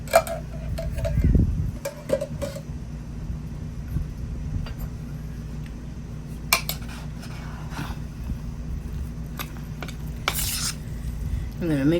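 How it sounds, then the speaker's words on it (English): Peach cinnamon roll cobbler filling is mixed in a bowl with repeated wet scraping and light clinks of the utensil, and a faint sizzle sounds in the background. "I'm going to mix this up a little bit."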